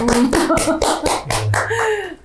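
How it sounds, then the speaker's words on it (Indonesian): Rhythmic hand claps from a talk show audience ring out in an even beat, about four per second, over tonal voices or music, then fade out. "Tepuk tangan dulu dong"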